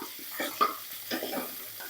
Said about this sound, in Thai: เพิ่มน้ำมันแล้วก็ผัดให้หอมอย่างนี้ค่ะ